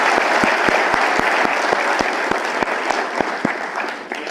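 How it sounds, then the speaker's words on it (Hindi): Sustained audience applause at the close of an Aadhaar photo-update training session, a dense steady wash of many hands clapping at close range with no talk over it. "एक बार आप लोग अपने लिए ताली कर लो।"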